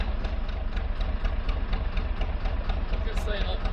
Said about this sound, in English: I love the sound of that engine.